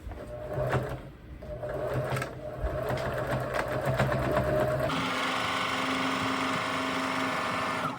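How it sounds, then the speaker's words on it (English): A sewing machine runs a straight stitch on an apron with a steady, close mechanical whir and rapid needle chatter. The tone shifts partway through as the stitching continues. "Now I'm going to just do a straight stitch"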